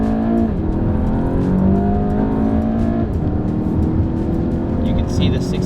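A Volkswagen GTI running a Stage 1 ECU and transmission tune accelerates hard at full throttle from a slow roll, the engine note rising steadily and loud from inside the cabin with a constant rumble beneath.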